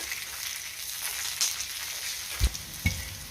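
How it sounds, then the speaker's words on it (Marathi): Green chillies and garlic sauté in oil over a medium gas flame, a steady bright sizzle with a couple of soft knocks of a spatula near the end. "2 मिनिटं मी मिरची आणि लसूण परतून घेतलेला आहे"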